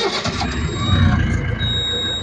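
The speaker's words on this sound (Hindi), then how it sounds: "ये पहला ट्रैक्टर है जो चाबी से ही स्टार्ट होता है" Mahindra Novo 655 DI tractor engine cranks on the key and catches into a low, throbbing diesel rumble, close and loud, with a voice talking over it.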